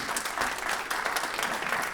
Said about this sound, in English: I'd like our sponsors to stand up and please let us give you an applause